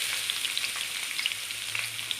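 Chopped onions frying in a little oil in a pan on a gas stove, a bright hissing sizzle with small pops and crackles scattered throughout, near and fairly quiet, no voices.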